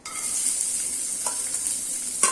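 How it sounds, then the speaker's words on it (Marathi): Chopped onion sizzles and crackles in a little oil in a kadhai as it fries, a steady close hiss with a couple of brief stirring scrapes. "आता कांदा भाजून घेऊया"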